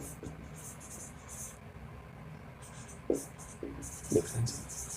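An equation is written by hand in a quiet room, producing soft intermittent scratching strokes in short bursts, with a few faint bumps and low background noise.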